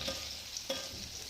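Sabudana khichdi stirred in a frying pan: two soft scraping strokes of a spoon against the pan over a faint, low background, with no talking.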